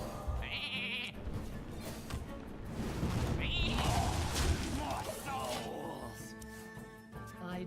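Short sheep bleats from the Hearthstone card game sound twice over game music and background noise while someone talks throughout.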